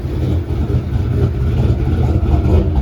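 A turbocharged 1993 Ford Mustang Fox Body Cobra replica idles close by, a steady, deep, slightly lumpy engine rumble holding even throughout with no talking over it.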